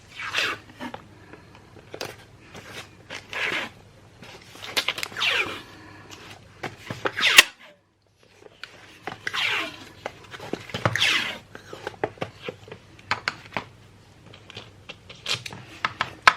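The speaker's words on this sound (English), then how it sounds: "you can just pop your packing tape around the centre like so" Packing tape pulled and wrapped around a shipping box, giving repeated rasping, zipper-like strips of sound in short bursts with brief pauses, close and fairly loud.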